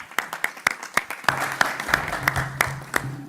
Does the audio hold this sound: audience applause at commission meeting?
yes